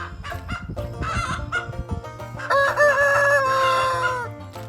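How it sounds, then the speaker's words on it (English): A rooster crows one loud, close cock-a-doodle-doo, rising into a long drawn-out final note, heard on its own with no talk over it. "The chicken goes."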